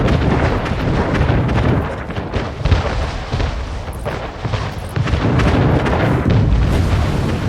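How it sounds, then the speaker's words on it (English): A torpedo strikes a ship during a naval battle in the video game Anno 1800. The low, rumbling explosion is loud and sustained, with continuous booming from battle throughout and no voices. "that was the torpedo"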